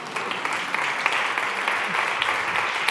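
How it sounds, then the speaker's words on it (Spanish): Steady, moderately loud audience applause at a conference talk on classroom problem solving, continuous sharp claps throughout without a break. "podéis aplaudir a la matemática"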